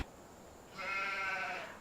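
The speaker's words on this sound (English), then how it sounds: "So yeah, so we got our sheep." A sheep bleats in a video game, one drawn-out, wavering bleat that rises partway through and holds, fairly faint, with no one talking.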